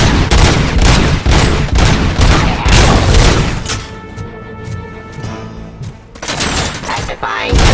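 Loud, dense gunfire in the video game RoboCop: Rogue City, heavy bursts and booms that ease off midway to a quieter hum, then a fresh round of shots, with a voice speaking over it.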